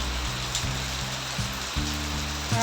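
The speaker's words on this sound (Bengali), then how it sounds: "পাঁচটা থেকে বৃষ্টি শুরু" Steady rain falls as an even, continuous hiss, with low hum-like tones shifting underneath; no voices are heard.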